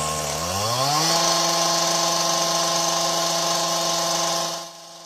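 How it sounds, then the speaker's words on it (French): A chainsaw running on a civil engineering construction site revs up over the first second, then holds a loud, steady, high-pitched engine whine on its own before cutting off abruptly near the end. "La tronçonneuse, ça fait du bruit et ça fait mal aux oreilles."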